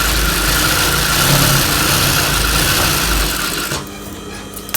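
A sewing machine stitches the lining of a blouse with a loud, steady, fast mechanical whir close by, then stops abruptly near the end and leaves quieter background.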